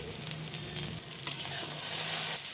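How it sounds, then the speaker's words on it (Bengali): Brinjal fries in oil in a pan and is stirred, giving a steady close sizzle broken by scraping stirs and soft knocks, with no voices. "নাড়াচাড়া করে ভালো করে ভেজে নেব"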